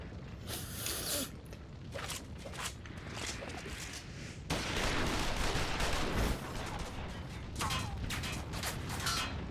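Gunfire in a Final Fantasy XIV Stormblood cutscene: a thick, continuous rattle of shots and mechanical clatter over a deep rumbling bed, loud and sustained, with faint voices in the mix.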